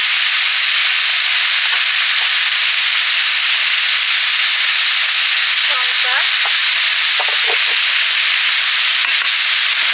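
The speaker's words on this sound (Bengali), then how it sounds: "জিরে ধনে মশলাটার সঙ্গে ফুলকপিগুলো কষে নেব" Cauliflower florets frying in a pan with cumin, coriander and green chilli, a loud continuous sizzle with occasional stirring scrapes throughout.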